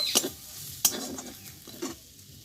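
Cauliflower stalks fry with a little sugar and cumin powder as a spatula stirs them, giving about four distinct scraping strokes over a soft, close sizzle that fades between strokes.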